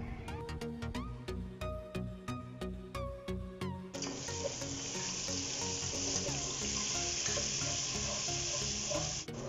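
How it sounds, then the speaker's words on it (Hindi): Ginger, garlic and green chilies frying with onions and spices in a pot, a steady broadband sizzle that swells after a few seconds of clinking and stirring, close and continuous with no talking. "अदरक लहसुन को भी हमने मसालों के साथ और प्याज के साथ थोड़ा सा फ्राई कर लिया है"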